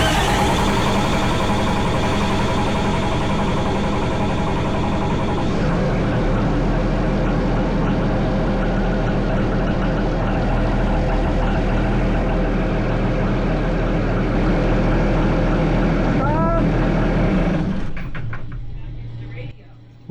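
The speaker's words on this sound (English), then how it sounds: "we'll crank the engine over for a bit to get it primed." A Cummins 6.7 diesel engine cranks over for a long stretch to prime its fuel, a steady, dense mechanical churning that continues for many seconds before winding down near the end.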